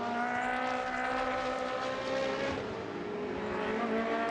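Ferrari Challenge race cars at speed on the Jerez de la Frontera circuit, a steady high-revving engine drone held throughout from the distant pack.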